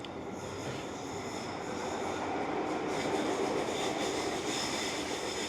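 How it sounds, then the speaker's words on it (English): A tram rolls past nearby, a continuous rumbling rail noise with wheel squeal and faint clatter that swells and holds steady for several seconds, with no talk. "there's a tram coming"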